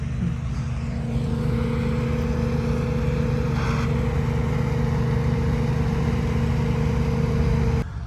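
A farm machine's engine runs steadily and loud throughout, a constant low droning hum with a faint brief rattle midway and no voices.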